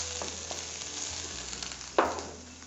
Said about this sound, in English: we literally need to saute this just for a minute